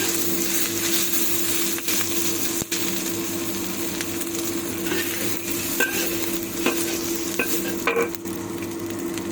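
Leftover beef fries in hot oil with a steady, loud sizzle, while a utensil stirs and scrapes the pan in occasional clinks close by, with no talking.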